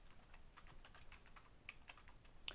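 Keys on a computer keyboard are pressed in a quick, uneven run of light taps with a few sharper clicks near the end, fairly quiet and close with no talking.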